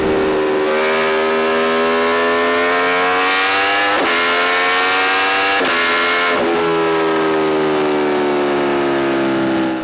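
An Aprilia Tuono V4 1100 Factory motorcycle accelerates hard, its V4 engine rising in pitch through three gear changes marked by brief dips, loud and close with no talk.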